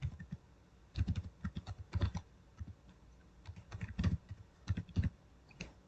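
Computer keyboard typing while a database table is set up in XAMPP and the command prompt, heard as irregular bursts of close, distinct keystrokes with short pauses between runs and no talking.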